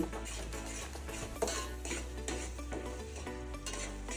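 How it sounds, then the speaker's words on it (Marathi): Ginger garlic paste being stirred into frying onions for Mumbai street-style pav bhaji, with steady sizzling, a low hum and repeated spoon scrapes against the pan throughout. "आता मी एक चमचा अद्रक लसणाची पेस्ट टाकून घेते ती पण याच्यामध्ये अशी मिक्स करून घ्यायची"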